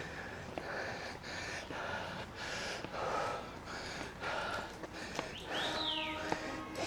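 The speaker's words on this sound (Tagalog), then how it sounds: "Hingal siya eh, oh." A person panting hard and out of breath at night in Alishan forest, with repeated heavy close breaths and gasps in a regular rhythm and a few faint chirps in the background.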